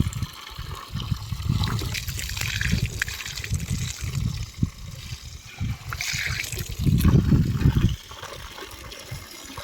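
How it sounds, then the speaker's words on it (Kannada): Water gushes and splashes onto chrysanthemum plants drying out in the sun, an uneven close flow that swells and fades in bursts with a strong surge near the end. "ಚಾಮಂತಿಗೆ ನೀರು ಬಿಡ್ತೀನಿ ಅಂತ ಹೇಳ್ದಲ್ಲ"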